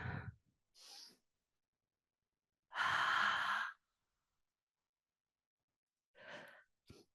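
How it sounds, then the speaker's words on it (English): Slow, deep breathing during an intense yoga pose: short soft breaths, then one long loud exhale and a couple of quieter puffs, separated by silent gaps, close and alone. "So 3 more breaths."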